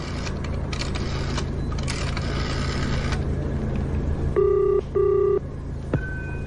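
Telephone dialing in a 1984 BBC espionage radio drama: a rapid clatter of dial clicks over steady room hum, then two loud bursts of ringing tone and a brief third beep.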